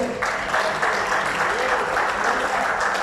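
A church congregation bursts into applause during a sermon, a dense, continuous clapping that holds steady at a fairly loud level for the whole stretch, with no voices over it.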